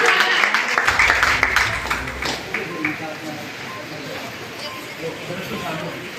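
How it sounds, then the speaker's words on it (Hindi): An audience at a large community meeting gives loud applause that is dense at first and then fades into a quieter patter, with crowd murmur and voices underneath. "जोरदार तालियों के साथ"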